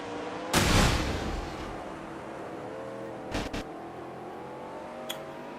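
A stock car crashing into the wall at Martinsville in a racing game: a sharp, loud impact burst over steady engine drone, followed by two quick bangs and a small later click, with no talk.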